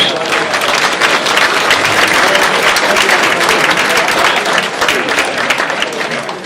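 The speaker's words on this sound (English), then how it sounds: "A nice round of applause for those sponsors." Sustained applause from an audience at a 2016 hall of fame event thanking sponsors, steady dense clapping filling the whole moment at close range.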